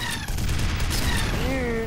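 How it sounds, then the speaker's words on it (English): Cannon rounds fire in the video game F.E.A.R., a dense burst of blasts over a continuous roar of combat noise with high electronic whines sweeping through it. "I'll try to finish him with the last of my cannon rounds."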